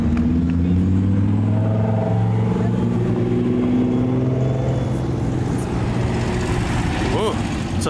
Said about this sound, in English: Purple Lamborghini lurking.